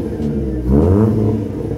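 Chevrolet Celta car fitted with a new air filter, its engine idling with a steady rumble and then revving up in a brief surge before settling back, recorded close by with no talking.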